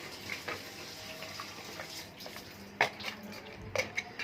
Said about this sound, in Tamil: இதில் கொஞ்சம் தண்ணி அலசித்தா